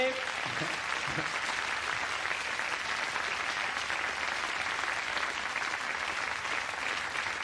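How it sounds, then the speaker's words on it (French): A television studio audience applauds an improvised comedy sketch, a steady, loud, continuous wall of clapping that holds evenly for the whole stretch. "Je propose qu'on les applaudisse pour ce sketch improvisé"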